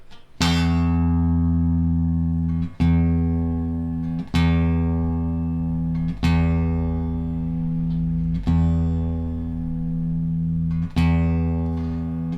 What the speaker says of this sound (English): I'm going to play that string and start turning it down